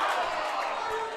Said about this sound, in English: Merrimack crowd is not happy.